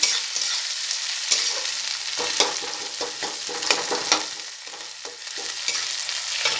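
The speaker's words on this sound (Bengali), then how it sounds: "চলো পেঁয়াজটাকে একটু লাল লাল করে ভেজে নিই" Onions fry in a kadai with mustard oil on a rooftop, a bright crackling sizzle broken by repeated stirring clatters and scrapes, close and fairly loud with no voices.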